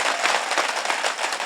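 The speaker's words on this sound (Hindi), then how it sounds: "एक बार मुझे ताली बजा के आदेशित कर दीजिए।" Audience applause at a Hindi kavi sammelan poetry gathering, a dense, steady wash of many hands clapping together, loud and continuous throughout with no voices over it.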